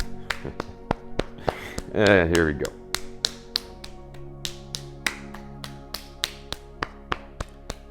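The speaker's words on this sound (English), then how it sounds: "Gentle patting." Soft, regular pats on the body repeat at a steady pace, with a brief spoken phrase early on over them.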